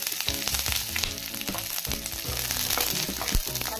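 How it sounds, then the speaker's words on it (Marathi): Onion frying in oil in a pan for a drumstick curry, a steady dense crackling sizzle with sharp spatters and stirring knocks, close and loud throughout with no voices. "इथे एक पॅन ठेवलेला आहे, त्यात थोडं तेल घालूया आणि त्यात आधी कांदा परतून घेऊया"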